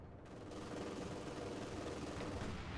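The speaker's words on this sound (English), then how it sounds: "Mortars continue to fly." Mortar barrages and gunfire in a Company of Heroes 2 4v4 battle on Hill 331: dense, continuous booming and crackling combat noise fills the whole stretch, steady and loud, with no voices.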